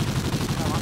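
Rapid gunfire in Counter-Strike during a competitive esports match, dense repeated shots blending into a loud continuous burst with game noise underneath.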